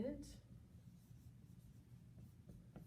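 Pen writing a single letter on paper, a soft scratchy rub lasting a few seconds, quiet and close, under faint room noise.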